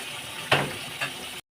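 Broth poured into a pan of Bengali bheda fish curry: a short splash and hiss as the liquid hits the hot pan, followed by a smaller second splash, close and fairly loud.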